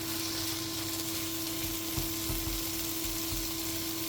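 Spices stirred into a hot frying pan give a soft, continuous sizzle with a steady hum underneath and a few light scraping knocks from the stirring.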